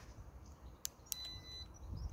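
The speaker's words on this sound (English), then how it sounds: "there's a beep when you're reversing." Two short sharp reverse-warning beeps from an Inokim Ox electric scooter fitted with a VESC controller (Flipky 75100 Alu), close by and separated by about a quarter second, followed by a faint steady high tone over low background hum.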